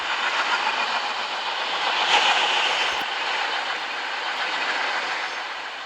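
An AmRail train in a video game rolls into a station platform with a steady, loud, broad rumbling roar that swells slightly in the middle and then eases off.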